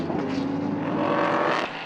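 LMP3 prototypes and GT3 race cars at full throttle, a loud continuous engine roar with shifting pitch as the pack races past, steady and close throughout.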